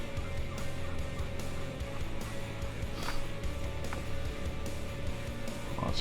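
Wild turkeys gobble at a distance as they come off the roost on a Montana morning, several brief calls scattered over a steady rumble of wind and engine noise.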